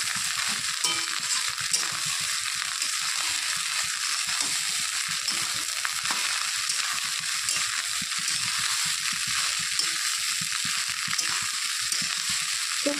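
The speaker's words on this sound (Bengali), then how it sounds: "ভালো করে এটা নেড়ে চেড়ে নিতে হবে।" Leftover rice tossed with Maggi masala sizzles in a pan in a steady, close frying hiss, with faint scraping as it is stirred and no voices.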